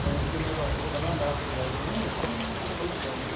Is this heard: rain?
yes